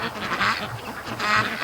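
Free range ducks on a lake give two short bursts of quacking calls, fairly close and clear over quiet outdoor background.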